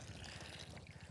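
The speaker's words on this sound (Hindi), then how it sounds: "मटमैला पानी आ रहा है," Muddy water gushing steadily from a hand pump at a roadside site for displaced people in Arrah, Bihar, a continuous close rushing wash with a pulsing low rhythm, and no voices over it.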